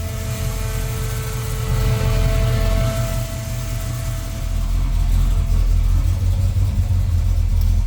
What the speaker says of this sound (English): So now she's getting a little hot, creeped up on me, so I just clicked on the fans.